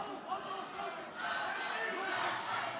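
A crowd at a small-gloves fight cheers and shouts in a steady, fairly distant roar, with the noise rising in the second half.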